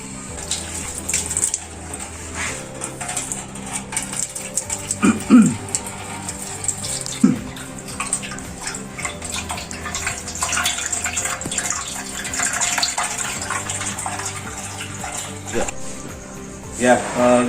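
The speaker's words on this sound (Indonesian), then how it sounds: "Ini pompanya menggunakan pompa akuarium ya. Kita tunggu sampai airnya naik ke atas." Aquarium pump pushing water into a batik dye wastewater treatment machine, a continuous splashing, gurgling flow with a few knocks, under a person talking.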